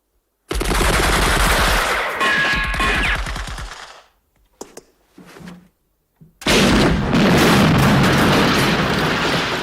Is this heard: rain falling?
no